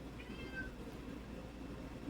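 A house cat lets out a single clear meow at close range over a low steady room hum.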